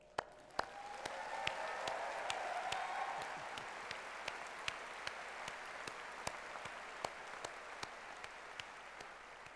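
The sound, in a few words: graduation audience applause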